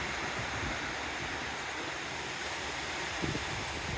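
Small sea waves lap behind breakwaters at Maspalomas, a steady close wash of surf mixed with windy noise, with no voices.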